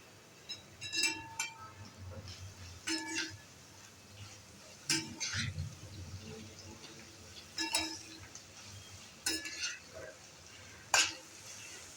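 Grated carrot, three carrots' worth, is added to a pan and sautéed for carrot vermicelli kheer. Scattered clinks and scrapes of a utensil against the pan come over a low, steady background.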